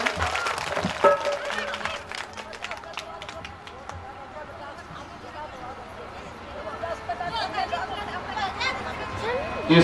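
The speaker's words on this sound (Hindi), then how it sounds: "जोरदार तालियों के साथ सभी को स्वागत करें।" Welcoming applause from a crowd at a Hindu yajna ceremony, steady patter and clapping that swells near the start and end, mixed with crowd chatter and voices throughout.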